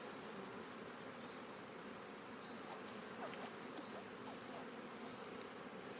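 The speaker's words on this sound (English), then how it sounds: "brush off these bees." A dense, steady drone of many honey bees buzzing all around as they are brushed off during queen rearing, continuous and fairly quiet, with no voices.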